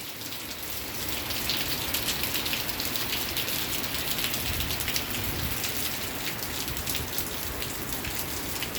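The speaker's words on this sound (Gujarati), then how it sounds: "સારા ગામમાં ધોધમાર વરસાદ વરે છે, જોઈ શકો છો" Heavy monsoon downpour over Chhara village at night, a dense, steady roar of rain hammering surfaces nearby, unbroken and loud from start to finish with no voices.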